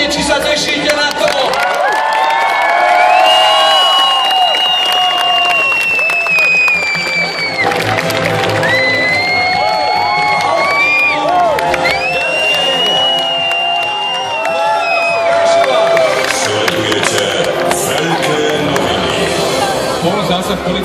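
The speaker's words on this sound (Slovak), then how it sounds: "Potleskom dajte znamenie, či sa tešíte na to." A crowd in the Prešov town square claps, cheers and whoops in a loud, sustained roar, with whistles and shouts rising over the applause and some chatter mixed in.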